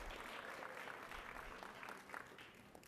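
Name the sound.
round of applause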